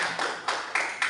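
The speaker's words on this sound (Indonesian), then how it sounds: "Tepuk tangan untuk Bu Diana dulu." Audience at a positive-discipline session at a junior high school clapping for a speaker, four evenly spaced bursts of hand claps close by, with no talk over them.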